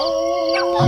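Dogs howl in long, steady, drawn-out tones that hold level before breaking off, loud and close, with a low rumble rising at the end and no other voices.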